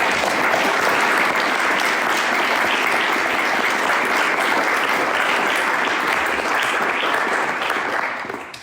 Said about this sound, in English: Can we give our incredible panelists a round of applause?